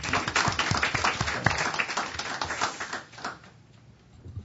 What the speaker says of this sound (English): You shouldn't applaud before I speak.